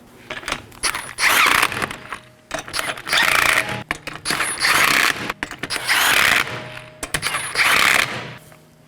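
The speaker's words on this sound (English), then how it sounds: "Now I'm just going to snug these down in a crisscross pattern with my 19mm." A 19mm socket wrench ratchets lug nuts down on a 2018-2024 Chevrolet Equinox, giving several loud, close bursts of rapid clicking separated by short pauses, with no talking.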